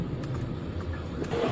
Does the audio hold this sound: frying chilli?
no